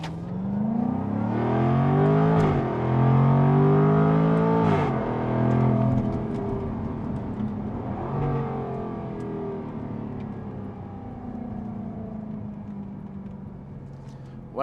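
A 2022 Jaguar F-Type P450 AWD with loud exhaust accelerates hard, the engine climbing through several gears with sharp pitch drops at each shift, then settling into a steady drone, all close and loud.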